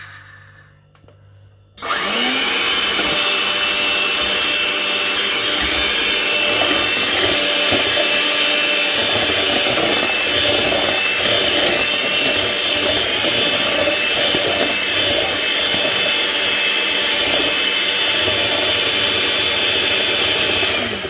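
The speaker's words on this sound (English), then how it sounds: "And I go in with my blender." After a quiet moment, an electric blender switches on and whirs loudly and continuously through red velvet cake batter, its high-pitched motor drone steady to the end.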